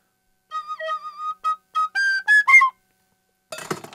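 A penny whistle plays a short run of clear, separate notes, some held and some clipped, rising toward the end, followed by a brief burst of rustling noise.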